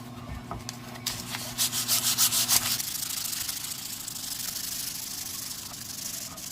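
A power sander works over torched wood, its rough rubbing hiss rising in rapid rhythmic strokes early on, then settling into a steadier, quieter grinding wash that continues to the end.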